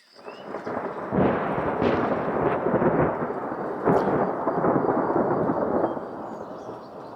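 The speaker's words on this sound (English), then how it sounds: "It's a storm." Thunder rumbles loudly and continuously over steady rain, with a few sharper cracks rising out of the long roll.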